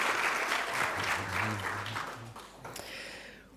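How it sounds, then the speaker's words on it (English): Applause fills a hall at a Queensland volunteering conference, a dense wash of many hands clapping that fades out over a few seconds as a voice briefly talks over it. "Another round of applause for the terrific work that they continue to do."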